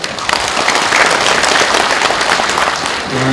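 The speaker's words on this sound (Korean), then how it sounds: "큰 박수로 맞이해 주십시오" Applause from an audience at a Confucian scholars' national assembly and forum, a dense, steady wash of many hands clapping that holds at full strength for about three seconds, with no talk over it.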